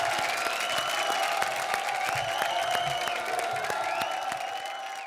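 Steady applause from an audience welcoming a singer on a comedy show stage, continuous clapping with a sustained tone and light cheering underneath, moderately loud throughout.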